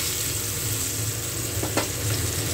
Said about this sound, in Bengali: এপিট ওপিট করে ভেজে নিচ্ছি